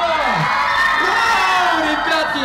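A festival concert crowd at VK Fest 2022 squeals and cheers as a performer takes the stage, a dense, loud wall of high-pitched shrieks and whoops running continuously throughout.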